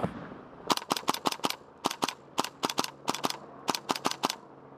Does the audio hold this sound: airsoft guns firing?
yes